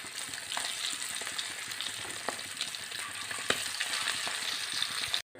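Prawns frying in oil in a pan for a Kerala-style prawn fry: a steady, close, dense sizzle with scattered pops and crackles, no voices, cutting off abruptly at the end.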